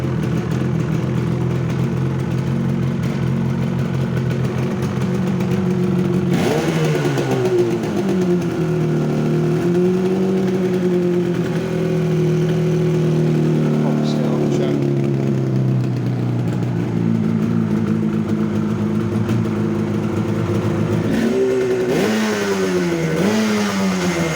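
A motorcycle engine fitted with a 2-into-1 exhaust runs loud and close, holding a steady high rev before dropping and climbing again in a couple of throttle sweeps, with no voices over it.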